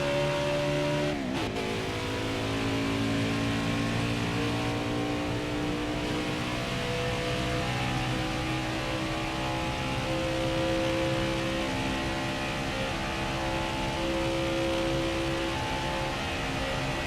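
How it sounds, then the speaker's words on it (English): A stock car in NASCAR Heat 5 at Atlanta leaving pit road and accelerating through the gears, its engine a loud, steady drone with rising pitch sweeps, heard alone throughout without voices. "as we come out of the pits and get up to speed going through the gears"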